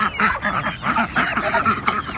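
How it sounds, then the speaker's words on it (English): Ducks and geese on a homestead quack and honk together in a busy, overlapping chorus of short calls, close by and fairly loud. "So we'll show you the ducks."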